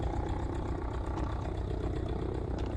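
A Christen Eagle aerobatic biplane's engine runs steadily in the DCS flight simulator game, a continuous loud, dense rumble that holds an even level throughout with no speech.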